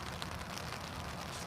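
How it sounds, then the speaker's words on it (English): Steady rain falls in an even, soft hiss, with no talk over it. "It's raining."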